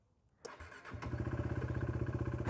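A KTM RC 390 single-cylinder race motorcycle starts up and settles into a steady, close, rapid thumping idle with an even pulsing beat and no talk.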